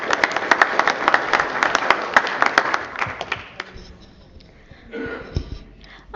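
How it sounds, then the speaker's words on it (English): Applause from a council meeting audience honoring a middle school essay contest winner, a few seconds of scattered, fairly sparse clapping that fades out, followed by quieter room noise and a brief shuffle. "Why don't we give her a round of applause, Julia?"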